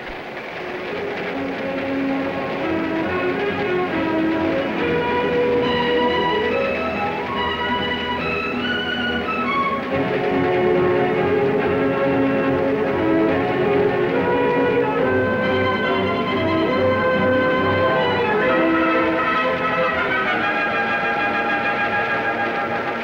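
A train rolls steadily along the rails, with a continuous rumble, rhythmic clatter and metallic squeals, heard close and alone.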